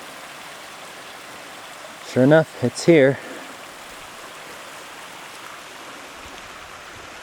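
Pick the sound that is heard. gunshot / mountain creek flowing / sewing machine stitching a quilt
mountain creek flowing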